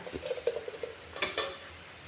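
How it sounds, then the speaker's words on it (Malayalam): A spoon stirs ground paste into a taro and jackfruit seed curry in a pot, making quiet, close scraping and soft clinking strokes in an irregular rhythm, with no talking. "നന്നായി ഇളക്കി കൊടുക്കുക ഇതുപോലെ"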